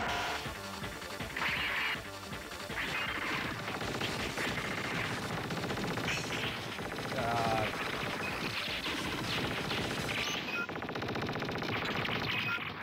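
Rapid streams of bullets firing in the shmup Change Air Blade, a dense rattling chatter layered with game effects, moderately quiet and continuous.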